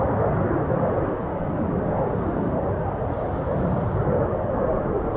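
A Eurofighter Typhoon FGR4 fighter jet on final approach at RAF Coningsby gives a steady, loud broadband roar that holds unbroken throughout, with no talk over it.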